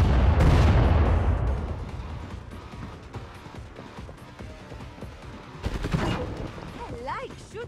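Gunfire from the zombie shooter Killing Floor 2: a loud boom opens, then dense rapid shots and impacts crackle under game noise, with a second burst near the end.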